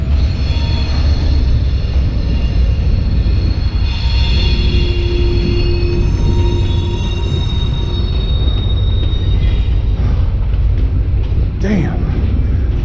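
A train rolls steadily along the railroad in a wasteland setting, a loud continuous rumble with wheel squeal and metallic tones, ending in a sharp high screech near the close; no clear talk over it.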